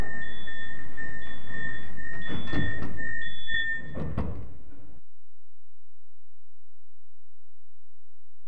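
Closing-door warning chimes on a Budapest M3 metro train, repeated electronic beeps followed by the sliding doors thudding shut, ending in near silence.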